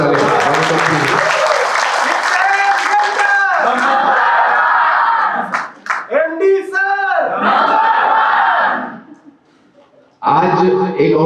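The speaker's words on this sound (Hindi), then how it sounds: "एक बार जोरदार ताली।" A crowd at an official gathering in Kalimpong bursts into loud clapping mixed with shouting voices. It swells strongly, drops off briefly near the end, then resumes.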